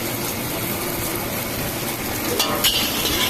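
Curry leaves and green chillies fry with scrambled egg in a pan for chicken fried rice, a steady close sizzle throughout with a brief scrape of a utensil near the end.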